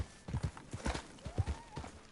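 Turkoman horse hooves in a video game, a quick uneven clip-clop of several hoofbeats at moderate distance with a faint whistling tone behind.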